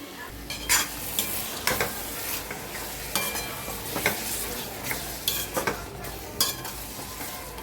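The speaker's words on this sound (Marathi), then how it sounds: "गॅसची फ्लेम थोडी मोठी करून हे सर्व छान परतून घेऊया" Soybean biryani masala with curd is stirred and sautéed in a pan over a raised gas flame, giving steady sizzling and frying broken by repeated scraping stir strokes, close up.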